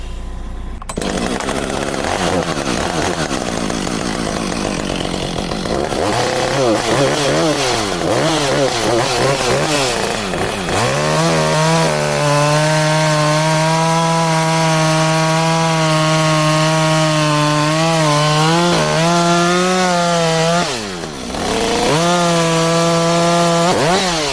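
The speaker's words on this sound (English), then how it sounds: "let's break out the chainsaw" A chainsaw idles then revs up and bites into a log, holding a steady loud whine through a long cut before briefly dipping and revving again.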